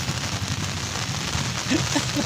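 Light rain patters steadily on a surface while fishing, a soft continuous hiss with scattered drops and a faint voice in the background.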